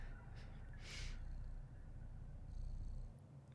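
Purring from a cat in a PS5 game trailer for Sly Cooper 5, a steady low rumble running throughout with a brief breathy burst near the start, loud and close, with no talking.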